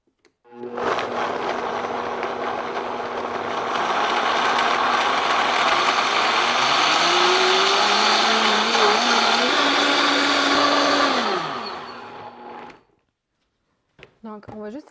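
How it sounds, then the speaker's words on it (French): A Vitamix high-speed blender runs loud and close while blending cashew cheese, its motor roar holding steady and then rising in pitch before cutting off, followed by a short silence and a voice. "Là, moi, j'utilise un Vitamix."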